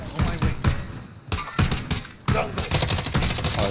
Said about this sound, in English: we're still getting sniped at from a bunch of different places